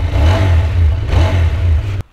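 A QJMotor SRK 600 roadster motorcycle engine revs twice in quick succession, a throaty close-up roar swelling and dipping, then cutting off abruptly.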